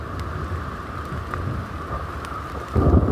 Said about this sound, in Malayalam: നല്ല ഇടിയും മിന്നലൊക്കെ ഉണ്ട്